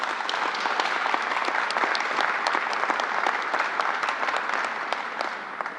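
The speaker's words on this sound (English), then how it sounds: "let's give a round of applause to all New Yorkers" Steady, lively applause from an audience at a COVID vaccination briefing in New York, continuous clapping at moderate volume with no voices over it.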